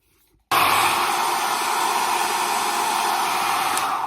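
A heated hair styling tool switches on at its heat setting after a short quiet moment, then holds a loud, steady blowing whoosh like a hair dryer, close and unbroken, with no talking.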